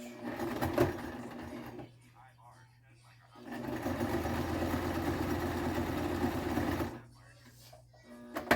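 A sewing machine stitches a chin strap onto a hat in two bursts, a steady close mechanical whir running a few seconds each, separated by a quiet pause, with a person talking.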